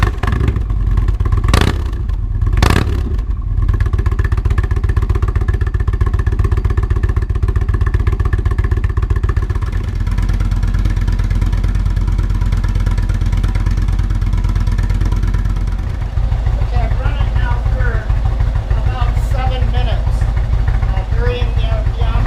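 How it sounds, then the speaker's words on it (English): An Indian Thunderstroke 111 motorcycle engine idles steadily with a low, even throb throughout. A few sharp clanks come near the start, and faint background sounds rise toward the end. "we're going to start the bike and let it idle for a while"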